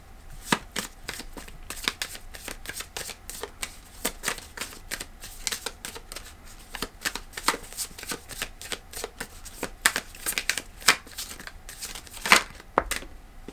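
Someone shuffles an Animal Apothecary oracle card deck close up, with a long run of crisp, irregular papery riffles, snaps and flicks and no voices.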